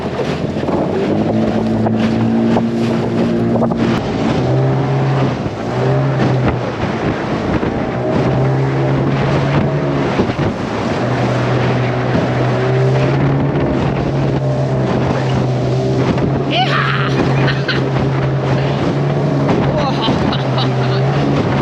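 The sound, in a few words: small 15 horsepower outboard motorboat on rough sea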